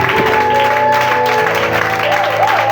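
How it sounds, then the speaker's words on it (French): A church congregation applauding during a French-language worship service, a dense continuous clatter of clapping under singing or musical tones. "Acclame Jésus, acclame Jésus"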